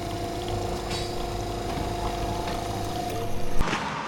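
Boiling water pouring from a hot-water boiler at a petrol station in Norway to make coffee, a steady continuous pour with a constant background hum, swelling briefly near the end.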